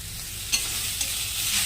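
Steady sizzling of food frying in a pan, with two sharp scrapes of a utensil stirring against the metal.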